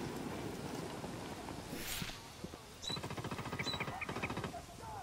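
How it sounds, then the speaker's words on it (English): Rapid automatic gunfire in the Ghost Recon video game, a steady burst of closely spaced shots lasting a couple of seconds over a noisy background, with a voice talking nearby. "Who's shooting?"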